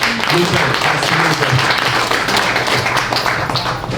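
Audience applause at a live speaking event, a loud, dense spread of clapping lasting the whole stretch, with a voice talking over it in the first half.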